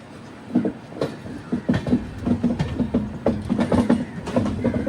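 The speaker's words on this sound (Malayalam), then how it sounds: "അങ്ങനെ ഇതാ ഭാരതപ്പുഴയുടെ ഭാഗത്തേക്ക് ട്രെയിൻ എത്തുകയാണ്" The Duranto Express, Mumbai to Ernakulam, runs near the Bharathapuzha river, heard from aboard as a steady rumble with rhythmic clickety-clack of wheels over rail joints, repeating beats building through the passage.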